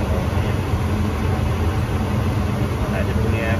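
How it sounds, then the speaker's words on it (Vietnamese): Furnace inducer motor fan running steadily, a loud broadband whir and hum close to the unit with a person talking over it. "bây giờ thì mình nghe cái quạt nó chạy rồi, quạt nó chạy rồi"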